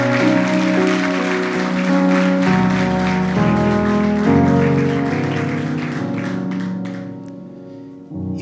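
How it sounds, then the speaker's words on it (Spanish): A church congregation applauds in a steady, dense clatter over sustained musical tones during a service, and the clapping fades away toward the end. "¿Cuánto le pueden dar un aplauso a Jesús en este día?"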